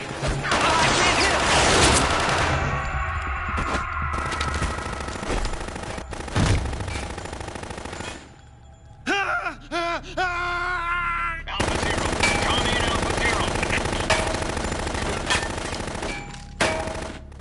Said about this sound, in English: You've literally probably went through like 3 mags of ammo right now.